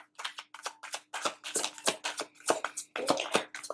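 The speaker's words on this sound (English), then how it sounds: "sometimes you just have to be very patient with these shuffles" Tarot cards being shuffled by hand in quick crisp bursts, a rapid series of riffling flicks and taps with short pauses between, close and clear with no talk.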